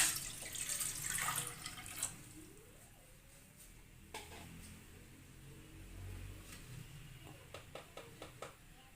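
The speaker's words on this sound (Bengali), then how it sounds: "1 মগ পানি দিয়ে দিচ্ছি" A mug of water splashes into a pot on a gas stove for boiling, a loud pour at first, then quieter drips and small clinks.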